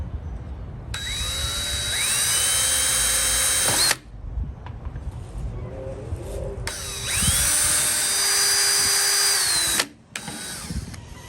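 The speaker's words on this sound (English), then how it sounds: "Let's not drill into my hands." A power drill bores into parts of a vintage Motorcraft shop clock, its motor whining loud and close in two long runs with a quiet gap between them and a brief start at the end.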